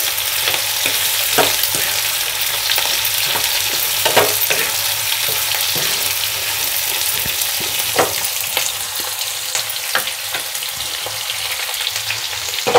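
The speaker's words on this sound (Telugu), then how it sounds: "ఆయిల్లో కొద్దిగా ఫ్రై కానిద్దాము." Finely chopped vegetables fry in hot oil in a pan, a steady close sizzle broken by intermittent scrapes and clacks of stirring.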